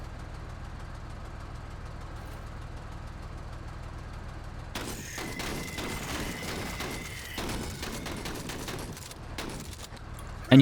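A gunfire volley in the turn-based tactics game Menace: after a quiet low ambient hum, a rapid run of sharp shots and impacts breaks out and keeps rattling for several seconds.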